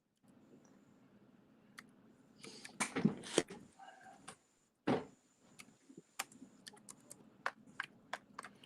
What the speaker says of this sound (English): I'm typing all this down.